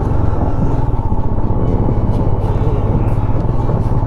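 A motorcycle rides up the road to the 500-year-old Gue Monastery in Spiti Valley. Its engine gives a loud, steady, low drone that rumbles without a break.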